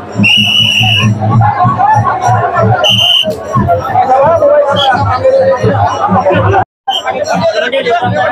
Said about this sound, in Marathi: भरपूर सारी गर्दी आहे